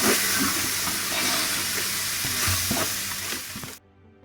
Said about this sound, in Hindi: अब हम इसमें अपनी चीज़ वाली सॉस डालेंगे और इसको अच्छे से मिक्स करेंगे